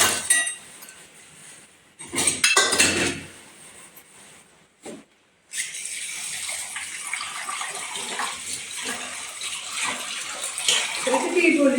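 Dishes being washed under running water, with clinking of utensils and a steady rush from the tap after a few clattering moments near the start.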